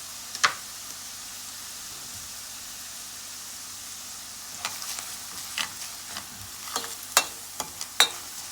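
Finely chopped garlic is stirred into a hot pan, with a soft, faint sizzle under a series of sharp scrapes and clicks from a utensil against the pan.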